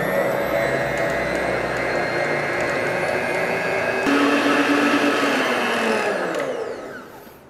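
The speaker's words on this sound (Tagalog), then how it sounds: "using the whisk attachment ng ating mixer, i-whisk natin siya until maging stiff peak." A stand mixer fitted with its whisk attachment whips meringue toward stiff peaks, a loud steady mechanical whir holding constant before winding down near the end, with no talking.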